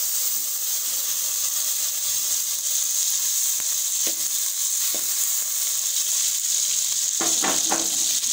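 Butter, four to five spoonfuls, heating in a kadai, giving a steady loud sizzle and frying hiss throughout with a few short clinks and stirring taps near the end.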